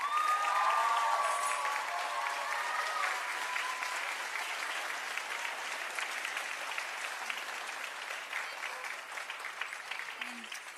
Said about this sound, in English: Come here, Baruma, so we can give you all a huge round of applause.